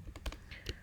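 A few quick keystrokes on a computer keyboard while HTML code is written for a JavaScript chatbot, soft and close, lasting under a second.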